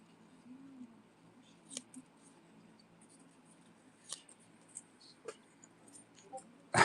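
Scissors snip through collectible packaging in a few sharp, isolated cuts spread over quiet room tone, ending with a louder crinkle or rustle.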